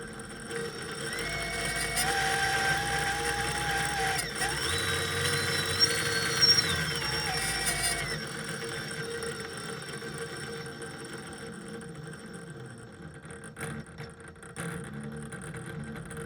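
A Revolver brushless motor runs on a Ghost DYS 70A ESC, giving a high whine that climbs and falls in pitch over several seconds before settling into a quieter hum with faint rattles.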